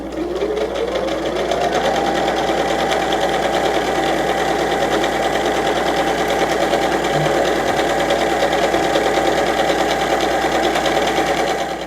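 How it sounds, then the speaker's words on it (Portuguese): A sewing machine stitches fabric while making a remote control holder, running steadily and loudly as a fast, even mechanical whir after a short ramp up, with no talking. "Eu tô deixando a agulha vincada na máquina. Então, vamos lá começar a minha costura."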